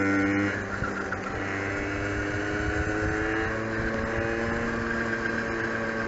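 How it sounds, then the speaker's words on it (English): A 1981 Honda Express II moped climbs a hill, its small engine droning steadily with a rising, strained pitch, close and continuous throughout. "Our little moped's making it up every single hill we challenge it to."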